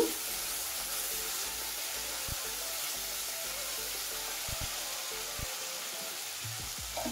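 Ground spices, including coriander and cumin powder, stirred as they fry in a pan for a Bengali potato-chicken curry, giving a continuous close hiss and sizzle broken by occasional light scrapes and taps.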